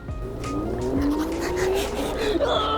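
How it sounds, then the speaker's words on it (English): A remote control car built from rental scooters drives with a rising whine and tire squeal, skidding across pavement nearby, loud and continuous for a few seconds. "It's my remote control car, dude."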